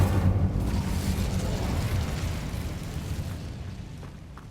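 Incendio fire spell from Hogwarts Legacy, a loud, rushing burst of flame that starts strong and slowly tapers off over several seconds, with no voices.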